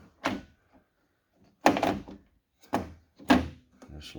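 A 2008 Kia Sorento car door is worked several times during a door handle repair, giving four loud, close thunks with short latch rattles, spaced about a second apart with quiet gaps between them.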